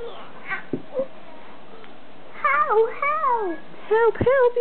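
A cat meows several times indoors, with a few faint quiet sounds early on and then clear, rising and falling meows close by near the end.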